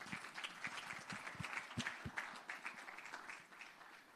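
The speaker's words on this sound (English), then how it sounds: "Another round of applause as they leave the stage." Applause from an audience at a G20 meeting of agricultural chief scientists as dignitaries leave the stage, a steady patter of clapping that stays fairly faint and distant throughout.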